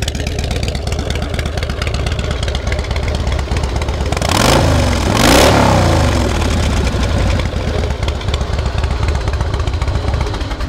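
A Harley-Davidson Softail Fat Boy FLSTF motorcycle engine idling close and loud with a deep, even, lumpy thrum, rising in a brief swell partway through before settling back to a steady idle.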